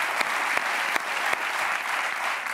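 A live studio audience on a Spanish late-night talk show claps steadily, a dense, even wash of applause with a few sharp louder hand claps standing out.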